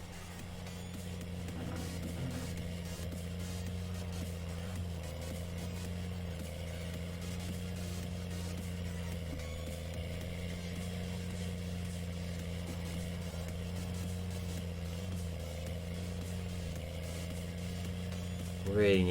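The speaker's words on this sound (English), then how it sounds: "Really need to try and sort these sounds out on this tractor. Get rid of that constant gear changing sound." A tractor engine in a semi-realistic farming video game drones steadily for about twenty seconds, an even low hum with no clear gear shifts, ending in a brief louder burst.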